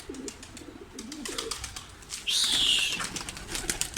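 Pigeons coo in low rolling calls nearby, then wings burst into loud flapping as the birds take off, followed by more fluttering and scattered sounds.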